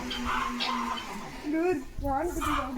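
A chicken gives a few short clucks close by, mixed with talking voices and background chatter.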